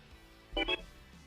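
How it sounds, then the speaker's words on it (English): A mobile phone gives a short, faint two-tone electronic chime, heard once in a quiet room. "I heard my phone go off"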